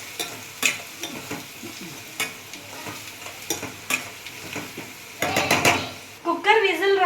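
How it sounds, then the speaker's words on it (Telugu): Onions frying with salt in a pan for a mutton bone soup: a close, steady sizzle broken by repeated scraping stirs and clinks of a utensil against the pan, growing busier and louder toward the end. "ఆనియన్స్ ఫ్రై అవుతున్నాయి."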